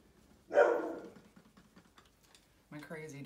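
A dog indoors lets out a single loud bark that trails off, followed after a quiet stretch by someone speaking.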